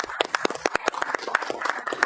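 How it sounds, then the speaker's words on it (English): Meeting attendees on a Gold Coast city council committee give a short round of applause: a modest room of individual claps, close and fairly quiet, lasting about two seconds. "Can I just offer a bit of a round of applause?"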